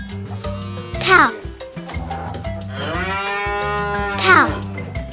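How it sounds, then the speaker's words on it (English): A cow moos twice, close and clear, with a long drawn-out low call between brief rising bursts, over a repeating background music track with a cowbell-like tone. "cow"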